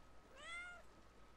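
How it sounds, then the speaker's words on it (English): A single cat meow from the video game Brothers: A Tale of Two Sons, a short rising-falling harmonic cry lasting about half a second, fairly faint over a quiet hiss. "And Big Brother will interact with the cat."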